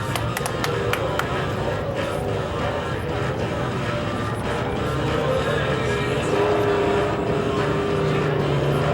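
Off-road race trucks and cars at Crandon drone and whine continuously. Overlapping engines and tonal revving build a little louder toward the end, with a faint background crowd.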